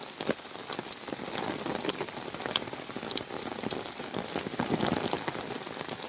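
Steady monsoon rain pours down in Aarey, Mumbai, a dense hiss with scattered drops pattering on surfaces close by, continuous throughout.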